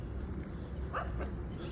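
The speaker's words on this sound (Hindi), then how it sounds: "कुत्ते भगते भगते आ रहे हैं" Street dogs in a residential lane in Faridabad bark as they come running. A few faint yaps and barks are heard at a distance over a low outdoor background.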